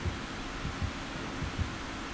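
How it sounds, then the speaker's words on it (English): A low, muffled heartbeat from the Dead by Daylight horror game thumps in a steady double-beat rhythm, faint under a constant background hum, with no voices. "I still hear the heartbeat, though"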